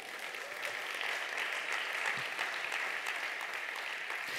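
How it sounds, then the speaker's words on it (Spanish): Steady applause from a church congregation during a Spanish-language sermon, a dense even wash of clapping filling the room without letup. "dale un aplauso a Él"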